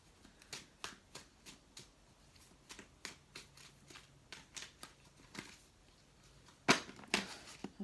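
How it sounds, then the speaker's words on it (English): Tarot cards are shuffled by hand in a series of soft, quick flicks and riffles that come in irregular bursts, fairly quiet and close, with a couple of sharper snaps near the end. "Just gonna shuffle and see what comes out."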